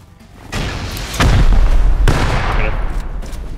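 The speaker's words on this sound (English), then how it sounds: "In the back, I'm throwing nades" Two loud, close grenade blasts from the survival game Rust, a sharp boom near half a second and a heavier one at about 1.2 seconds, then another strong detonation near two seconds, with rumbling tails and no speech over them.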